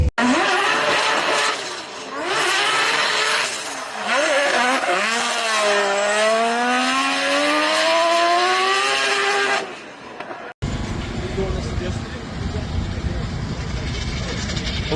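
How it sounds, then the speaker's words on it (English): A drift car at Fuel Fest LA on an evening track screams up through its revs with rising, wavering engine pitch and tire squeal, loud and close, before an abrupt cut to broad crowd and ambient noise. "Still drifting on a beautiful evening."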